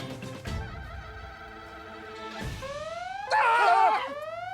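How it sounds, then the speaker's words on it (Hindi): A phone alarm set as a daily medicine reminder rings with a rising electronic tone sweeping upward, growing louder toward the end over a background of sustained music-like tones. "ये हमारा फोन का अलार्म बजा।"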